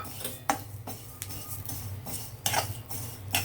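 Vermicelli frying in ghee in a pan, with a utensil scraping and clinking against the metal in irregular strokes over a soft, steady background hum.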